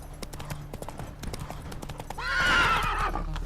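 Roach, a horse in The Witcher 3, gallops with quick, close hoofbeats, then lets out a loud, wavering neigh that rises over the steady clatter near the end.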